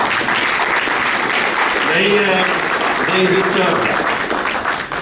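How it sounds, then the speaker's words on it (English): An audience at a panel event on economic matters applauds steadily throughout, a dense wash of clapping with a voice speaking briefly over it. "I think we should give them a round of applause."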